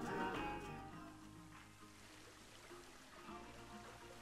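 Water splashing and trickling in the zoo game Planet Zoo: a soft continuous babbling stream with a slightly louder burst at the start, faint and steady, with no talk.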